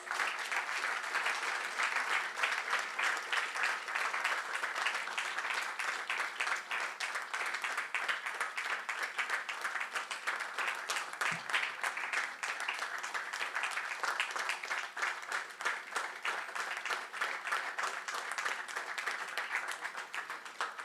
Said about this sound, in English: Can we have a nice round of applause?